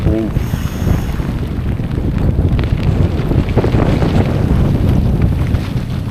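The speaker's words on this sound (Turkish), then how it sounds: "şu an deli gibi yağmur yağıyor" Heavy rain and gusting wind batter a tent during a seaside storm with waves nearby, a loud, steady, unbroken roar that fills the whole stretch.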